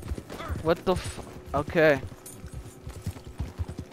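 Horse hooves in Red Dead Redemption Online, a quick clip-clop of a galloping horse running under talk from players, with a brief exclamation and a short whinny-like tone.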